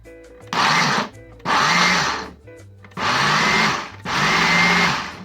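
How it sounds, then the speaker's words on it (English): Four short bursts of a whirring food processor motor mincing pesto ingredients, each pulse about a second long with brief pauses between them, close and loud. "Then you can use a food processor"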